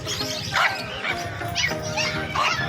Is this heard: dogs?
yes